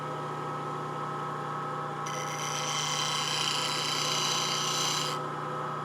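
Grinder sharpening the bevel of a spindle gouge, a steady motor hum with a harsh grinding rasp starting about two seconds in and lasting roughly three seconds before easing off.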